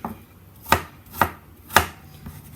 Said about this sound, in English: I'm just going to chop them into cubes